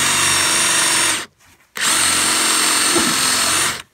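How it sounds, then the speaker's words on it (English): A power drill whines loudly at high speed while boring into wood for a bird box, running for over a second, stopping briefly, then revving again for about two seconds before cutting off. "if you drill anything at that speed, anything dangling down near it should be tucked away"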